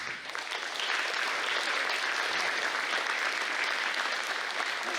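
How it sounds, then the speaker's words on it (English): Sustained audience applause at an elementary school invention convention, a steady, dense clapping crowd that rises quickly and keeps going for several seconds. "So please give a big round of applause for Harry Legler."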